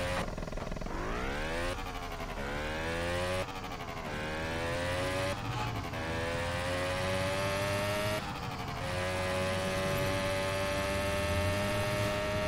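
A tuk-tuk three-wheeler's engine hums steadily in a video game, with repeated rising whines as it shifts through gears and builds speed, continuous and fairly loud with no talk over it.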